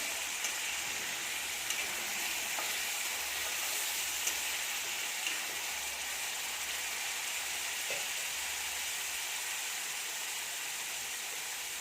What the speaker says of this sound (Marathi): वाटण तेल सुटेपर्यंत भाजून झालेलं आहे